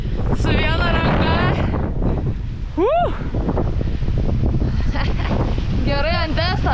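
Strong gusting wind buffets a microphone outdoors on a rainy test ride, a constant loud roaring rumble that swamps everything, with a voice speaking briefly through it.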